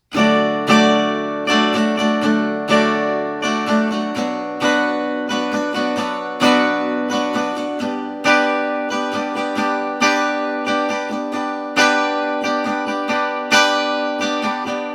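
Steady acoustic guitar strumming through a sequence of chords, with a regular rhythmic pulse of strokes, clear and close, with no voices.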